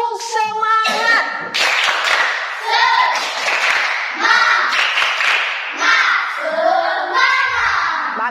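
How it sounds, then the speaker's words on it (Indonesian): A class of schoolchildren performs a rhythmic spirit-clapping routine, chanting loudly in unison between bursts of patterned hand claps, close and lively. "Kita melaksanakan tepuk semangat."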